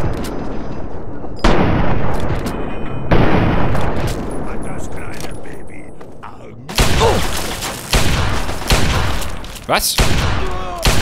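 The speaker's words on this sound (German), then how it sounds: "Ich vergesse immer wieder, wie schnell eigentlich die Magnum hintereinander schießen kann." Magnum revolver shots from Fallout 3 fired in fast succession amid loud combat booms, each blast sharp and close, with a voice briefly exclaiming over the gunfire.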